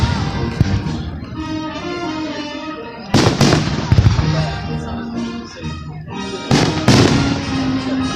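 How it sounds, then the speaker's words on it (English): Fireworks at a 4th of July celebration in Lawrence County, with loud sharp bursts and crackling reports at intervals over a steady background rumble. "Just a beautiful night for fireworks, the 4th of July celebration."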